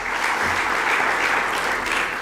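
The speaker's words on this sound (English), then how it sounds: "your applause first of all" Audience applause fills a forum hall, a steady dense clapping from a large crowd that holds at an even level throughout, with no voices over it.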